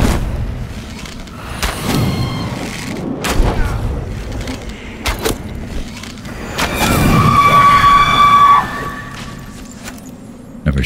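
Weapon shots fired at an enemy in the survival game Enshrouded: several sharp thumping shots at irregular intervals, one followed by a brief ringing tone, over low background rumble.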